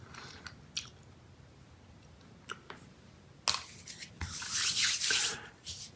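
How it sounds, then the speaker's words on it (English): Close, crisp crunching of sour freeze-dried Skittles candy being chewed, with a few sharp bites early and a loud burst of crunching toward the end. "I love the crunchiness. It's almost like I'm eating some sort of a crunchy cereal."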